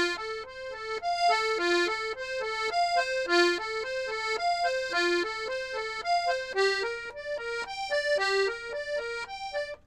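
An accordion plays a bass-and-chord pattern for a song, with steady repeated tones in a rocking rhythm, clear and close, alone without any talking.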